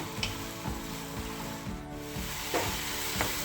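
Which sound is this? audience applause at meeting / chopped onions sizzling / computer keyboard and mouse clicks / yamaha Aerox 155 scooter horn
chopped onions sizzling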